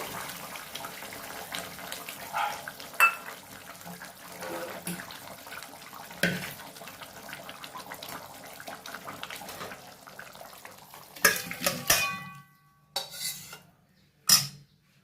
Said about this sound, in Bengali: আমি একটা পাত্রে ঢেলে নিলাম।